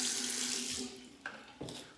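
Cold tap water runs into a sink to wet an alum block, a steady splashing stream that shifts as the block is moved under it, close and clear with no talking.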